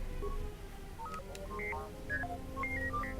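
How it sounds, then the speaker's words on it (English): Astromech droid in a Star Wars video game chirping a rapid series of electronic beeps and warbling whistles, short tonal blips stepping up and down in pitch over a steady low game ambience, with no talking. "That's our astromech droid."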